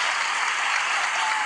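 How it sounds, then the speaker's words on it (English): Dense, steady applause from a group, a continuous wash of clapping for the full moment with no talk over it. "Let's just clap it up for the ghetto-ness in Popeyes"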